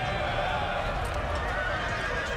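Video game cavalry in Napoleon: Total War: horses whinny and neigh over a dense clatter of hooves, a busy, continuous crowd of mounted animals moving together.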